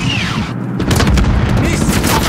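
Gunfire in Call of Duty: Modern Warfare during an embassy mission: a loud, dense, continuous barrage of rumbling shots and booms filling the whole clip.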